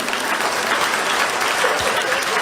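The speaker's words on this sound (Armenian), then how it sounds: "Մեր միջազգային մասնակիցներին ծափահարեք եւ ողջունենք" An audience applauds international participants at a Prime Minister's swimming cup event in Armenia, with dense, steady clapping from a crowd that holds throughout.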